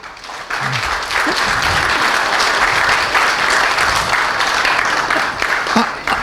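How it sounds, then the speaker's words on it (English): Sustained applause from a crowd, steady and dense clapping throughout with a few scattered louder claps. "a round of applause for our"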